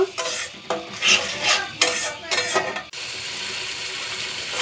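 Spice paste sautés in a pan with bursts of rhythmic scraping and stirring for about three seconds, over a low sizzle that then carries on alone and evenly; close, with no speech.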